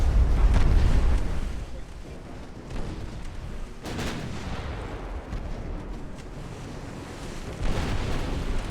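Warship battle in Ultimate Admiral: Dreadnoughts with a ship catching fire, heavy gunfire booms, a loud blast at the start and further thuds, over rumbling sea and wind while someone talks.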